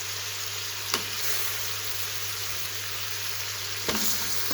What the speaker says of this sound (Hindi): ये डालकर हमें अच्छी तरह से भून देना है